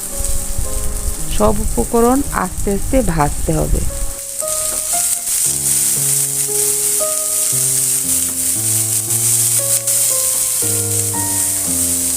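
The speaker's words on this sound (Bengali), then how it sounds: "মরিচ কিছুটা ভাজা হলে দিয়ে দিলাম কিছুটা পেঁয়াজ ও রসুন কুচি" Dry red chillies with chopped onion and garlic frying in hot oil, a steady hiss that runs the whole way through, first under a voice and then under background music.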